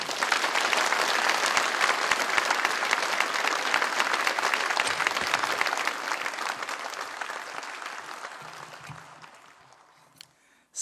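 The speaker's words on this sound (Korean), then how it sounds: "이 목사님 나오실 때 여러분 박수로 맞이해 주십시오." A church congregation breaks into sustained applause to welcome a pastor, a dense, even roar of clapping that holds steady for most of the span, then thins and fades out near the end.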